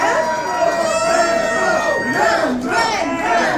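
Live audience cheering on request at a concert by a band at Cornucopia, a loud crowd roar with shouts and mixed voices swelling and dipping over a few seconds.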